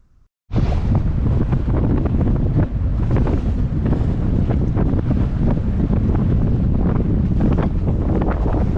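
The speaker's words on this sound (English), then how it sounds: "Now the wind has completely changed direction and is howling" Wind howls across a sailboat out on Buttle Lake, a loud, constant rushing roar battering the microphone, with faint water sloshing underneath and no speech.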